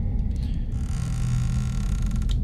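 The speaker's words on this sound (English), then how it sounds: "Who is making creaking noises?" Slow wooden creaking inside the lighthouse setting of the video game Eilean Mor: The Lost Keepers, a low drawn-out groan over a steady ambient hum, fairly quiet and unaccompanied.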